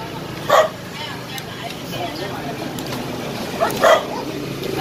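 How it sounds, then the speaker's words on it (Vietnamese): A small dog barks on a busy Saigon sidewalk, two short yaps about three seconds apart heard close over steady street noise and chatter. "Đây con chó ở đây rất là dễ thương."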